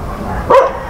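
A single short dog bark rings out at a Philippine home garden planted with papaya, banana and bitter gourd, a brief mid-loud yelp rising over quiet background.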